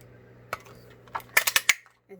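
Scissors snipping out a paper piece for a Stampin' Up sunflower treat box, a few sharp crisp cuts, then a quick cluster of four snips close together, near and clear against quiet.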